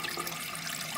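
A toilet fitted with a Keeney flush valve, with a 2-inch outlet and 3-inch inlet, flushes in a short, fairly quiet burst of rushing, gurgling water.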